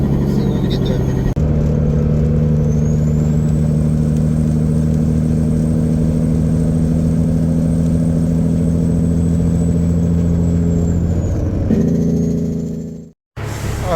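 A truck engine rumbles steadily at a mid-range hum while heading onto the interstate, loud and close with a constant drone, briefly changing pitch near the end before cutting off abruptly.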